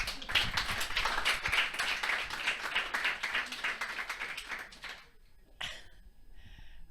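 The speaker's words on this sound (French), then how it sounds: "On applaudit." A conference keynote audience breaks into brisk clapping, a dense burst of many hands that tapers off after about five seconds, followed by quiet room tone and a brief rustle.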